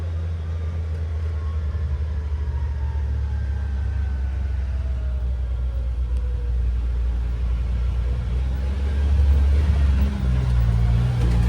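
A 2025 CFMOTO U10 PRO UTV rolls along at low speed, its engine giving a steady low rumble with road and wind noise throughout, growing slightly louder near the end.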